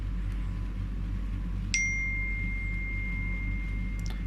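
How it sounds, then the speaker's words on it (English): A phone text message notification gives a single bright ding that rings on and fades over steady low background hum, with no talking. "and it should be coming incoming. There's a text message."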